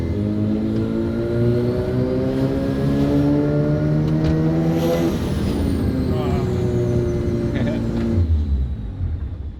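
FC car engine idling and revving after sitting 15 years, a loud close rumble with rising and falling harmonic pitch, one strong rev around the middle before it settles lower near the end.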